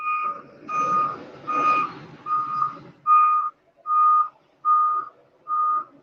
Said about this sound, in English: I can hear beeping.